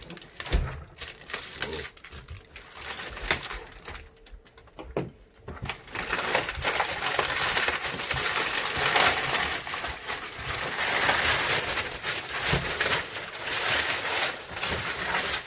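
Crinkly plastic packaging from a Traxxas TRX-4 Sport RC truck crackles and rustles loudly and continuously, handled up close with bursts of crumpling.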